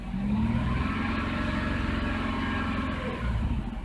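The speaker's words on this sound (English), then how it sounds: "on the screen you can see the RPMs are going up" A Jeep engine with a high fuel consumption fault revs up close by and holds a steady, loud drone as the RPMs climb slightly.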